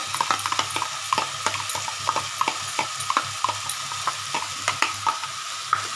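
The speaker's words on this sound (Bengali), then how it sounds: "এটা আমি আরেকবার একটু নাড়ছি" Gobindobhog rice and garam masala being stirred in a hot frying pan, with rhythmic scraping strokes of a spoon against the pan over a steady low sizzle, close and clear.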